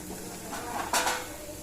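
Soft scraping and a sharp clatter of a plate against a pressure cooker as chopped ridge gourd is tipped in, one short metallic knock in the middle of quiet shuffling.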